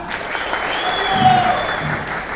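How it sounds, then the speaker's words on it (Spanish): Audience applauding on cue at a mentalist's stage show, steady clapping under a sustained whistle-like tone, with a few raised voices near the middle. "todo el mundo aplaude"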